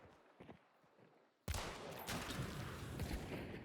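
Gunfire in the video game Hunt Showdown, with a Vetterli and LeMat loadout, bursting in loudly after quieter shuffling and rumbling continuing as a dense, booming wash.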